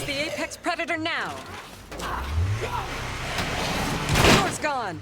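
A car door torn off by a zombie in State of Decay 2 lands as a loud slam and thud midway, surrounded by game noises and someone talking over it.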